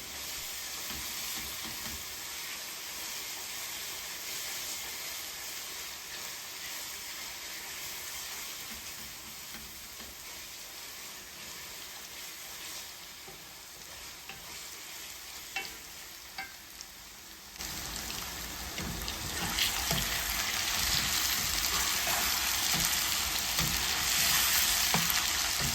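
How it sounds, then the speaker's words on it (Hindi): Chicken pieces frying in oil in a kadai for chicken tikka masala, a continuous hissing sizzle that swells louder partway through, with no talking. "जब ये वाला चिकन भी फ्राई हो जाएगा तो मैं दूसरा भी इसके अंदर डाल दूँगी।"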